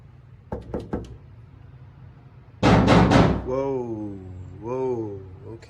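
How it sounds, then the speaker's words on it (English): Knocks land on a door, first a quick series of three sharp raps, then a heavier barrage of thuds later, followed by a voice speaking close by. "The final barrage of knocks occurs directly on the door he is touching"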